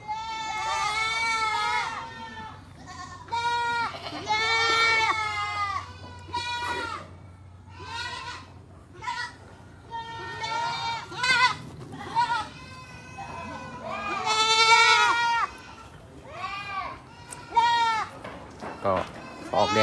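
Young Boer goat kids bleat on a farm, many close, high, wavering cries overlapping in irregular bursts with short lulls between, some loud and some quieter in the distance.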